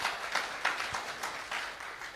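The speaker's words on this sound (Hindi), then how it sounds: "एक बार जोरदार ताली बजा दीजिए आप लोग" An audience in a hall for a network business talk breaks into applause, a dense, even patter of many hands clapping at moderate distance, filling the whole moment without pause.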